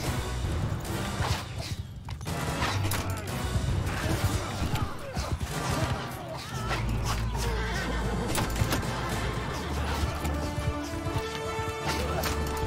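Horse neighing and whinnying amid the din of a Bannerlord cavalry battle, with hooves, clashing impacts and a constant dense roar of combat, loud and busy throughout.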